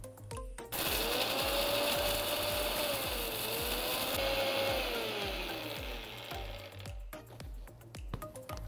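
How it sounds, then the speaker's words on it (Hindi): An electric spice grinder whirs loudly and steadily for several seconds, pulverizing roasted jeeravan masala for Indori poha, with a rising and falling motor pitch before it stops amid a few clatters. "इसे अब पीस लेंगे"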